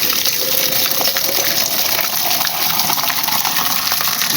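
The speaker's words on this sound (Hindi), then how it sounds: "पानी भरता रहेगा।" Water from a motor pump gushes steadily into a container as it fills, a loud, continuous rushing stream with no break.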